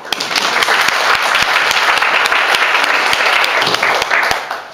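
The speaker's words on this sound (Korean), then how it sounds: "박수 한번 주세요." Church congregation applauding during a Sunday service, a steady dense wash of many hands clapping throughout, loud and close with no break.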